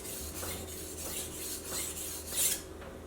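The tip of a knife edge being sharpened, giving a close, gritty rasp that repeats in short even strokes, with one slightly louder scrape near the end and no voices.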